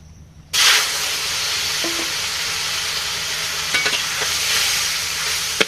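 Fish frying in a pan in a village kitchen: a sudden burst of hissing sizzle after a brief quiet start, then a steady, close hiss with a few light crackles.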